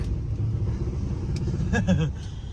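A deep, steady engine rumble from a 1967 Chrysler 300 with a 440 engine idling close by while cold, with a few faint higher tones flickering briefly near the end.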